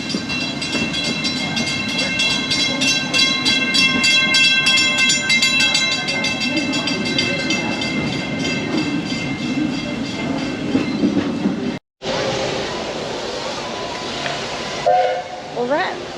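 Disneyland Railroad train ride, a continuous loud rumbling of the moving train with rhythmic clatter and a sustained whistle, a brief cut near the end, then more rolling train noise.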